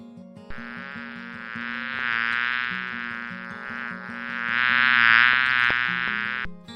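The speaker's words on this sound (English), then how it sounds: "Bee" A loud, steady bee buzzing drones on, rising and falling in intensity, with gentle music underneath and no talking.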